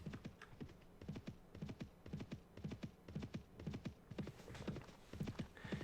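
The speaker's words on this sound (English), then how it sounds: "I have to ride my horse in map mode." Horse hooves from the video game Mount and Blade Warband, a steady galloping clip-clop of several mounts in quick rhythmic clusters, faint and continuous with no talking.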